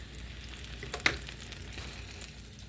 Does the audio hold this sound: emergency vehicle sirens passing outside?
no